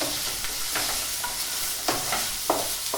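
Garlic frying in a pan while being stirred, a steady loud sizzle with several scraping strokes of a utensil on top and no talk.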